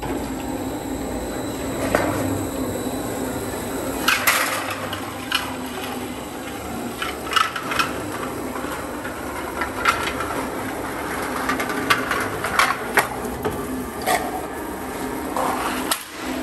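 An 8200mm x 1.2mm Machine Makers slitter folder runs a slit along sheet metal, giving a steady mechanical rumble and hum with intermittent clanks and rattles throughout, fairly close and loud, with no talk.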